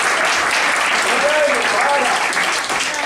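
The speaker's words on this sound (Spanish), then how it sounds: "Así que un aplauso" Loud, dense applause from a crowd at a Galician homage to Milio de Ca'l Ferreiru de Bárzana, steady clapping throughout with a few voices calling out underneath.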